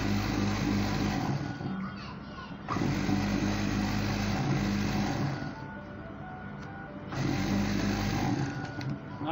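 A sewing machine running a stitch on shirt fabric, droning steadily in bursts of a few seconds with short pauses between, close and fairly loud.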